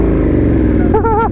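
A KTM Superduke 1290 R motorcycle engine rumbling loud and low at a red light, with a voice speaking briefly over it near the end.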